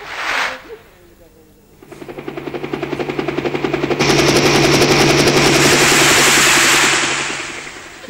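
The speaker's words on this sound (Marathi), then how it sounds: "हेलिकॉप्टरने उतरले की काय" Helicopter sound effect in a Marathi village stage play: a loud, fast rhythmic rotor chatter that builds in from faint to full and holds steady for several seconds before easing off.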